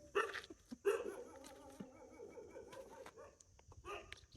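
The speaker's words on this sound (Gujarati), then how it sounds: "કૂતરા સાથે મસ્તી કરી રહી" A dog on a goat farm in Sidrana gives a few quiet, scattered barks and yips at a moderate distance, with faint outdoor background between the calls.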